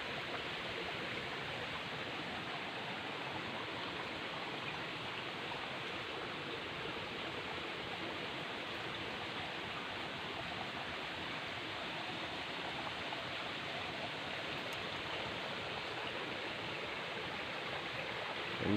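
A clean river flows steadily, giving a continuous, even rush of water close by with no talk over it.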